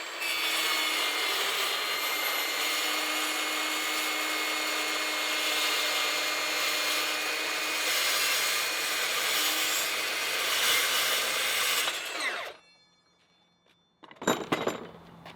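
A Milwaukee M18 FUEL 8-inch cordless metal-cutting circular saw rips a strip off steel angle iron, a loud continuous grinding whine for about twelve seconds that cuts off abruptly, followed by quiet and a few brief clatters of handling.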